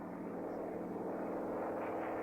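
A World War II-era propeller plane taking off from a Japanese aircraft carrier at Midway, a steady droning engine roar that holds even and unbroken, moderately distant and fairly quiet.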